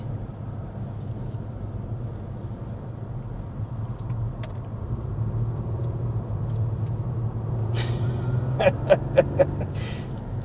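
A 2023 Volvo S60 Recharge plug-in hybrid with a 2-liter turbocharged four-cylinder and electric motors pulls away in power mode, a steady low interior rumble that builds slightly, with a few brief clicks near the end.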